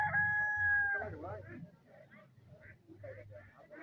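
A rooster crows once at the start at a market where chickens are sold, then hens cluck softly under faint talk and a low hum.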